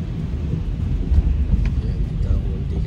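Rain drums steadily on a car driving along a highway after snowfall, a dense, constant wash of noise over low road rumble, with no pauses.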